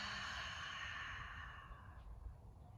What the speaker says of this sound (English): and exhale out